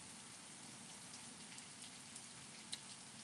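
Heavy rain pours outside as a steady, broad hiss with occasional faint droplet ticks, distant and quiet throughout, with no voices.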